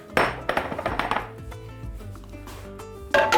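Eggplant and zucchini get chopped finely on a board for mixed dolma, a run of quick close knife taps that thins out and then picks up again near the end, with no voices.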